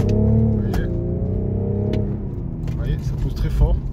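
A BMW M550d xDrive diesel sedan pulls hard under acceleration, its engine note rising steadily in pitch through the gears, loud and close, with someone talking over it.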